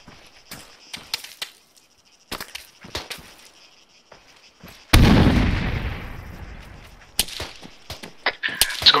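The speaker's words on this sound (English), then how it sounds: "Frag out." A frag grenade in the ARMA 3 military shooter game bursts in a single sharp blast midway, trailing off into a decaying rumble between sparse clicks and distant pops.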